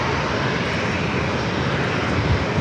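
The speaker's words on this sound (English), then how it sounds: "The Dreamliner, short final." Boeing Dreamliner heavy jet on short final into San Diego airport, a loud continuous engine rumble and roar close by, with no voices.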